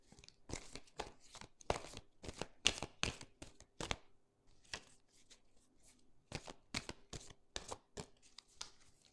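A tarot deck being shuffled for a card reading, with repeated close papery riffles and slaps in quick bursts, a short pause midway, then more shuffling, with no voice.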